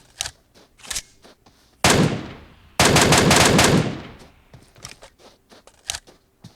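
Automatic gunfire in the mobile battle-royale game PUBG Mobile: two loud, dense bursts of rapid shots, one short and one longer tailing off, surrounded by fainter scattered shots and game noises.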